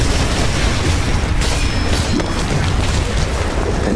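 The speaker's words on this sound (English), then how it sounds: "An explosion." A big explosion in a Minecraft animation, a loud, dense, continuous blast rumble filling the whole stretch without a pause.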